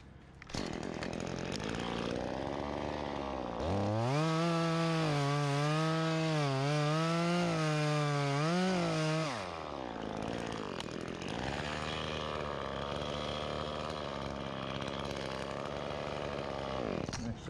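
A chainsaw cuts through a tree during a removal job, its engine loud and steady, rising to a high strained whine for several seconds mid-cut before dropping back to a rougher running drone, with voices talking around it.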